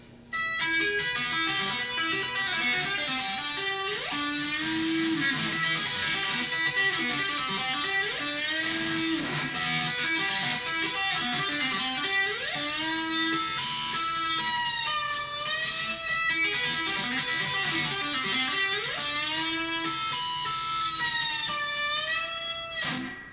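An electric guitar plays a sustained solo passage with bent, sliding notes and repeated phrases, loud and continuous, with no voices.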